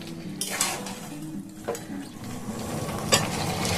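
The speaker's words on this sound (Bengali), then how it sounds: "আবার একটুখানি নাড়াচাড়া করে দেবো এটাকে" Yardlong beans being stirred in a pan while they cook, with a spatula scraping and knocking against the metal a few times over a soft steady sizzle, close and moderately loud.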